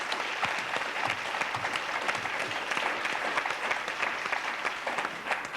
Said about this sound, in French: après une superbe partie que je vous demande d'applaudir